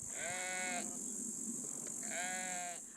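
Sheep and goats from a Mongolian nomad's herd bleat twice, each a wavering, nasal cry of under a second, heard outdoors against steady high-pitched background noise.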